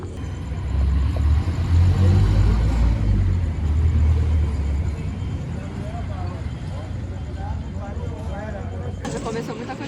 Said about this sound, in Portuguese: Ó, carro ali.